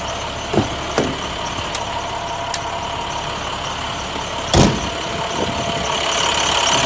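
Truck fitted with a Knapheide heavy hoist body idles steadily, a constant mid-low engine rumble with a few sharp clicks and knocks, one louder thump midway, no talk.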